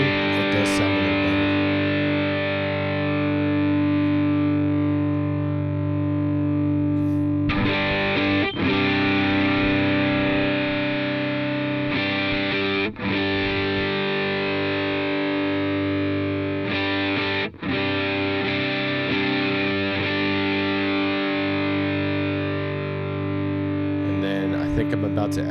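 Electric guitar played through a distortion effect in the BIAS FX app, with lower gain and higher volume, giving sustained crunchy chords that ring steadily, broken by a few brief pauses and re-strikes, loud and without talk.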